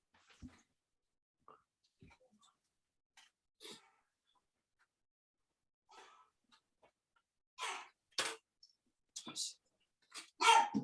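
A dog barking indoors during a conversation: scattered soft sounds at first, then a run of loud, close barks and yelps bunched toward the end.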